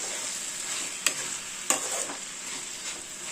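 Vegetables for fried rice stirred in a hot pan with spice powder, a steady sizzle broken by two sharp scraping clacks of the spatula and softer stirring scrapes, close and alone.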